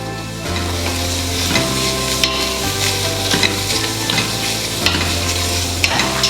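Mutton biryani ingredients sautéing in a pan, loud sizzling and frying with repeated stirring scrapes and clinks of a spoon, close up and continuous.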